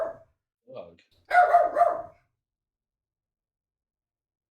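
A dog barks in a few short sharp bursts, close and loud, then falls silent.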